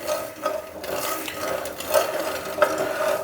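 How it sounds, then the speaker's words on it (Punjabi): Large mustard seeds dry-roast in a pan for a carrot and radish pickle, making a close, dense rustling crackle with a few sharper pops scattered through it. "ਇਹਨੂੰ ਆਪਾਂ ਇੱਕ ਤੋਂ ਅੱਧੇ ਮਿੰਟ ਵਾਸਤੇ ਥੋੜਾ ਕੁ ਚਿੜਚਿੜ ਕਰਨ ਤੱਕ ਆਪਾਂ ਇਹਨੂੰ ਭੁੰਨਾਂਗੇ"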